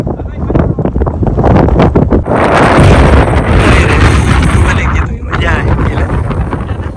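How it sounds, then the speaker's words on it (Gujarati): Strong wind by the sea buffets the microphone in loud, roaring rumbling gusts that nearly cover everything else. Voices are mixed in beneath the blustering. "પવન બહુ છે એટલે તમને અવાજ થોડો ઓછો આવતો હશે"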